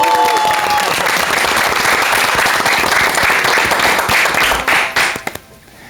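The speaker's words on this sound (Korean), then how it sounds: "박수가 좀 약한 것 같은데 힘차게 해볼까요?" Strong, sustained audience applause fills the room at a Korean temple youth talk show, loud and steady for about five seconds before tapering off quickly at the end.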